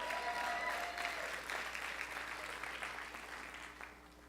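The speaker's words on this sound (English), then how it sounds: "Big round of applause." A conference audience of realtors applauds in a steady, moderately distant wash of clapping that slowly tapers off.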